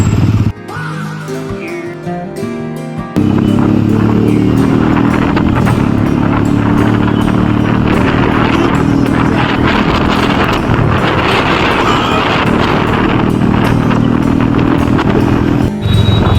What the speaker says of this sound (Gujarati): જબરું ટ્રાફિક છે ભાઈ.